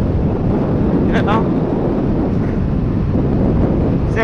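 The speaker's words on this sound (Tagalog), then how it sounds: "At medyo mahangin." Strong wind buffets the microphone in a steady, loud rush outdoors on a coastal road trip in Sagay City, Negros Occidental, with brief faint voices or calls passing under it.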